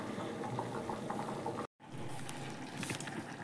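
Rice with green peas and potato boils in an open pot, giving a steady close bubbling hiss that runs almost unbroken for a few seconds, with one very short gap.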